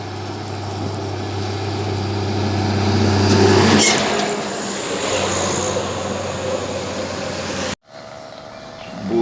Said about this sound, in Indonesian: Bus ke-10, bus Putra Pelangi, Dek Nabila.